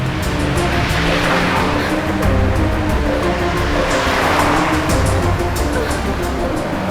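A car is driven along a road with a steady, loud engine roar and broad road and tire noise throughout, with dramatic background music and a faint voice beneath.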